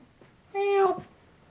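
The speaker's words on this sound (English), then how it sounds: "There's a kitty in the shot." A pet cat in a room gives a single short, clear meow close by, with quiet surroundings before and after.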